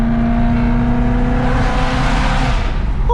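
A BMW M3 with an aftermarket exhaust pulls hard in fifth gear without a downshift, heard from outside the car as a loud, steady, rising drone that holds for a few seconds and eases off at the end.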